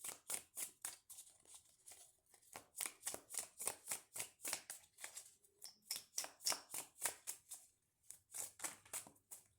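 A deck of cards is handled and shuffled up close in quick, evenly spaced soft bursts of riffling and slapping, quiet and steady with short pauses, without any voices.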